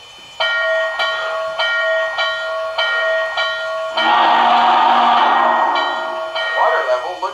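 An MTH GS-4 Proto 3 model steam locomotive pulling Daylight passenger cars on a Texas and Pacific layout gives a run of evenly spaced ringing electronic tones, then a loud, steady burst of steam hiss and chuffing that fades back down.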